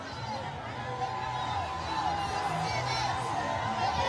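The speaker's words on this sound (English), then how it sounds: "The crowd increases." Large crowd roaring and cheering along a road as a huge equipment convoy rolls past, a steady dense wash of voices and whoops that swells slightly louder toward the end.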